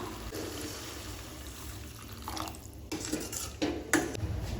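Water splashes and trickles into a metal pot of egg curry, then clanks and clatters of metal follow as a lid is set down, close by.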